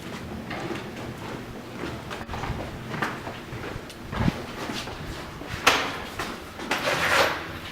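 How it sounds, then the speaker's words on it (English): A locked door at an old rifle range being forced and jimmied open, heard as a run of scraping, knocking and sliding clunks, with a sharper bang near the middle and rattling toward the end, no voices. "We had to jimmy the door to keep it open."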